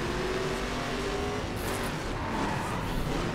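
Nissan Skyline race car in the video game The Crew, driving on snow and ice in a race pack: a steady, loud engine drone with tyre hiss and skidding texture throughout, no talk.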